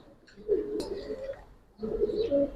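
Giribaz pigeons coo in two soft bursts of low, throaty warbling with a quiet gap between them, heard close by with a little background noise.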